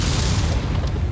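SRM6 Stream short-range missiles fire in the MechWarrior 5 Mercenaries video game, a dense, booming blast of rumbling launches that fades within about a second.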